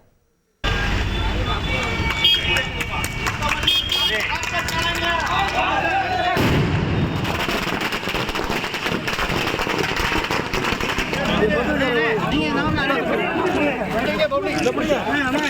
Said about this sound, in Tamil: தமிழகம் முழுவதும் திமுக தொண்டர்கள் பட்டாசு வெடித்து இனிப்புகள் வழங்கி கொண்டாட்டத்தில் ஈடுபட்டனர்